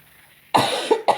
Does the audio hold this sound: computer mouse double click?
no